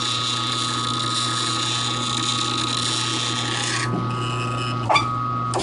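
A steady, high-pitched metallic squeal with a grinding rasp beneath it as a countersunk titanium pivot hole is lapped with compound, continuous and close, with a brief scrape near the end.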